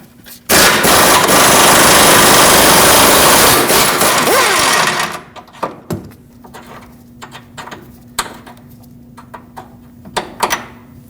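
Power tool, likely an impact gun, rattles loudly and steadily for about four seconds while removing a 19mm headed bolt from a rear control arm on a 2009-2015 Honda Pilot, followed by scattered metallic clinks and knocks.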